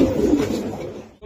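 Pigeons at a pigeon seller's stall give a short, low, throaty coo that sounds close by, fading out within about a second.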